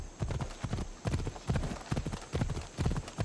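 Horse hooves clip-clop at a steady gallop in Assassin's Creed Odyssey, a quick repeating rhythm of soft thuds that holds steady throughout at moderate volume.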